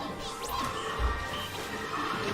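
Forward smash attack landing in a competitive Super Smash Bros singles tournament match, a single heavy impact thump over steady game noise and crowd ambience.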